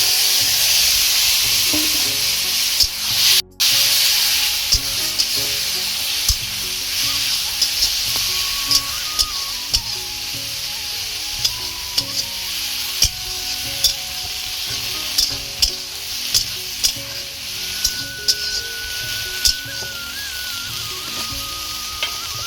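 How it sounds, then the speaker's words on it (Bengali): Leafy greens drop into hot oil with chilli in a kadai, giving a loud, steady frying sizzle and hiss broken by repeated scraping and clacking stirs throughout. "লঙ্কার সমরাটা তেলে পাকানো হয়ে গেছে, এর মধ্যে দিয়ে দিচ্ছি শাক"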